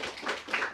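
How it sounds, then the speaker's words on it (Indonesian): An audience at an Indonesian economics talk show gives a short round of applause, a quick patter of claps that ends within a second. "kita berikan tepuk tangan buat Mas Astrio"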